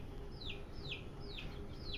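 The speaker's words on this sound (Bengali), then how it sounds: "এই যে মুরগি বাচ্চা উঠে গেছে, ঘুম ভেঙে গেছে মনে হয়।" A baby chick waking up and cheeping, four evenly spaced high descending peeps, faint and close, over a quiet indoor background.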